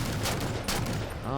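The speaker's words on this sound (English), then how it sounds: "I think I shot the gun off." Rapid bursts of gunfire from a weapon in the video game Halo 4, a dense run of shots filling the moment with a ringing tail at the end, with a voice faintly underneath.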